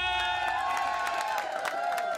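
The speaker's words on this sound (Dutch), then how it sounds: "Applaus voor de gezellige meeske" A crowd at a festive party cheers and whoops with high voices, scattered claps popping through the noisy, lively din.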